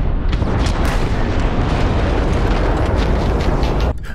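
A spaceship blown apart in a space combat game, a loud, dense explosive roar that rumbles continuously for about four seconds before cutting off abruptly.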